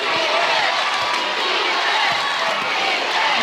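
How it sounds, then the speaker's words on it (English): Ohio State fans in a women's college basketball arena, at an NCAA tournament game against Notre Dame, roar in a steady, loud wash of crowd noise that holds throughout, with a commentator talking over it. "This crowd starting to make its presence felt"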